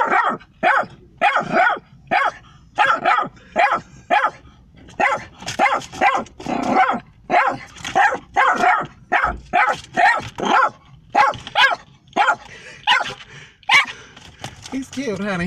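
A dog barks loudly and repeatedly in steady, rapid bursts at close range, with a few yips and whimpers mixed in, while people talk over and between the barks.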